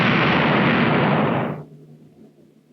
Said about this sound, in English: our ship has been put to work in shore bombardment